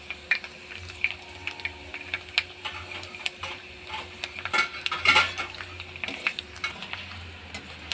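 Edible gum (dink) frying in oil in a pan, a steady crackling sizzle with irregular pops and brief bubbling bursts, fairly close, no voices.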